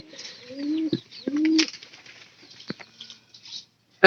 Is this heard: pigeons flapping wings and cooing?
yes